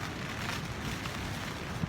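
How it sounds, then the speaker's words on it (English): Wind roars steadily and loudly at midnight, gusting around 40 to 50 km/h against a portaledge, buffeting the microphone with a dense, rumbling rush and no let-up. "it is really windy out there"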